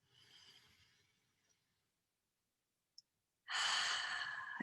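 Deep breath taken during a guided meditation: a soft, drawn-out inhale, a pause of silence with a tiny click, then a louder rushing exhale close to the microphone, with no talking.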